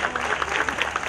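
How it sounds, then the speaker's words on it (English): An audience at the WIC India Dehradun Literature Festival 2016 claps for a panel at lunchtime, a steady wash of applause with scattered louder individual claps throughout. "can we have a big, big round of applause for them?"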